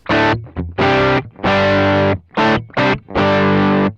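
Electric guitar through a Sonicake Sonicbar Twiggy Blues overdrive pedal, tone fully up and gain just over halfway, plays short chords and sustained notes with gaps between them, a gritty, slightly crunchy tone, close and loud with no talking.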